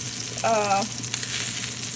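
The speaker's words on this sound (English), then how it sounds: "fry the middle side of the salmon on both sides" Salmon fillet sizzling and frying in a pan, halved along its midline, with a steady close hiss throughout and a brief tonal clink partway through.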